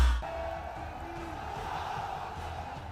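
A large crowd at a political rally in Uttar Pradesh roars and cheers continuously, a steady distant wash of many voices at moderate loudness.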